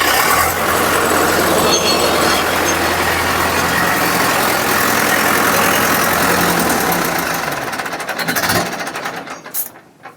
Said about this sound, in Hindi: तो भाई पहले ही प्रेशर पर ट्रैक्टर स्टार्ट हो गया।